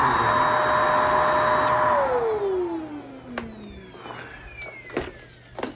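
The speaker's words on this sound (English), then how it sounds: "And now, the vacuum cleaner sucks again." A freshly repaired vacuum cleaner runs with a loud, steady motor whine, then switches off and winds down in a long falling glide, followed by a few light clunks and rattles.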